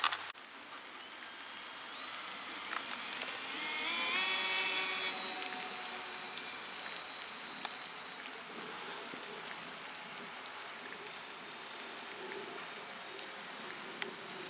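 Buzzing, insect-like whine of an Ugly Stik Twin radio-controlled model airplane with two engines in flight, swelling louder and higher as it passes around the middle, then settling into a steady, more distant drone.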